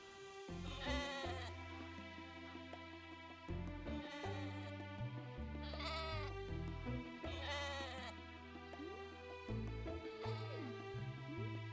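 Sheep in the farming game Echoes of the Plum Grove bleat in several wavering calls spaced out over cheerful background game music, clear and fairly close.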